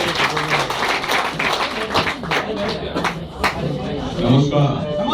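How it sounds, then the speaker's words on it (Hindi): Loud applause from an audience at a live event greets Shri Shankaranand Singh, with dense clapping that ebbs and swells, overlapped by talking voices. "जोरदार तालियां फॉर श्री शंकरानंद सिंह जी"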